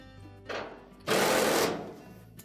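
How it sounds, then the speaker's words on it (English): A power screwdriver whirs in two short bursts, a brief buzz then a longer, louder one, backing screws out of the top bracket on a Whirlpool clothes dryer. The sound is close, with no talking. "Now next we'll remove two screws right up at the top here that go through a bracket that holds the main top in place."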